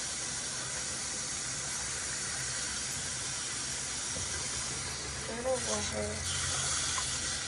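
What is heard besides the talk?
water running while bathing a dog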